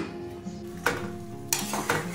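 A lid set onto a pot of bean curry in a home kitchen, two sharp metallic clanks about half a second apart followed by a lighter rattle, close up over a faint low hum.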